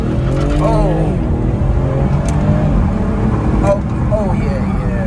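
A twin-turbo BMW 440i accelerates, its engine a loud steady drone heard from inside the car while people talk over it.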